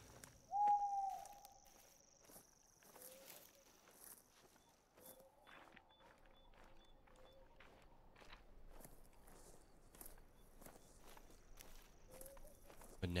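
Owl hooting at night in the hunting game theHunter: Call of the Wild, a few soft hoots spaced apart amid insect chirps, footsteps and faint ambient forest noise.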